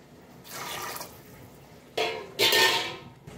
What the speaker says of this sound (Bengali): এটার মধ্যে আমি 2 কাপ পরিমাণ জল দিয়ে দিলাম।